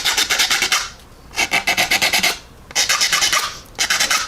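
A white coarse sanding stick rasps back and forth across a plastic 1/35 Academy AH-1Z Viper model kit part in quick, even strokes, grouped into three bursts with short pauses between them. The sound is close and clear, with no talk.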